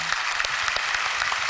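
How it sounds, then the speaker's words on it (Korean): Warm, continuous clapping from a congregation at a Christian prayer gathering, many hands patting together steadily at an even level with no voices on top. "여러분 박수 한번 보내주시면 큰 힘이 될 것 같습니다."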